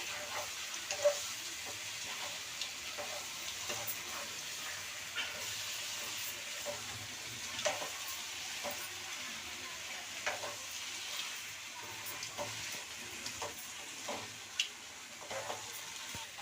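Stuffed brinjal masala curry sizzles in a pan while a spoon stirs it, soft scraping strokes recurring every second or so over a quiet, steady frying hiss.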